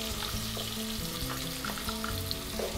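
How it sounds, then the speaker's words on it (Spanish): Garlic fries in oil with onion for Cuban congrí, a loud close sizzle with bubbling pops and a low background hum. "Y seguimos sofriendo hasta que el ajo se dore un poquito."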